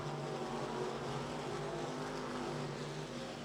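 Sprint race cars circle Eldora on a late lap, a distant sustained engine roar that drones evenly and faintly throughout, without distinct individual passes.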